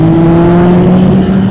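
A Yamaha motorcycle pulls hard in second gear at around 50 miles an hour, its engine a loud, close, steady droning roar with a rising tone over a short burst, no talk.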